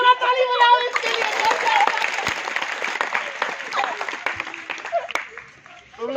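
A school audience claps loudly for a student with perfect attendance, a dense burst of many hands that stays strong and then thins toward the end, with some talk underneath.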